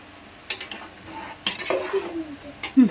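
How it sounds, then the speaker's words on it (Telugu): A spoon stirring rice into chicken pulao in a cooking pot, giving a few close scraping strokes and light clinks against the metal over a faint sizzle. "ఇప్పుడైతే మనం రైస్ వేసేసుకున్నాం కదా, కలిపేసుకుందాం మొత్తం ఒకసారి."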